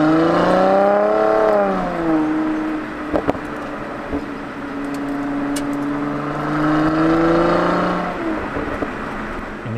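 A Mercedes C450 AMG V6 engine revs up loud and close, its note climbing, dipping and rising again as the car accelerates, with a couple of brief clicks midway and no talk.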